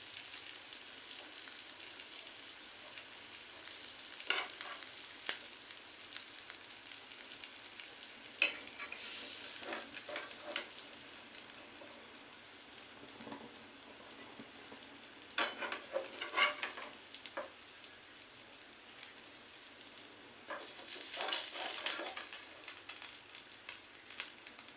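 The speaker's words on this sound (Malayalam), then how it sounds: "നമ്മുടെ മത്സ്യം ഇവിടെ ഫ്രൈ ആയി വന്നിട്ടുണ്ട്." African-style fish frying in a pan, a quiet low sizzle broken by several bursts of scraping and clattering as the pieces are turned and lifted, no voices.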